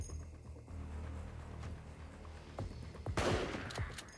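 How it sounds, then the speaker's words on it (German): Gunfire rings out in the survival shooter LifeAfter, a burst of several quick shots close together near the end after a low ambient hum, fairly quiet overall. "Jawohl, so wird gezielt, so wird geschossen."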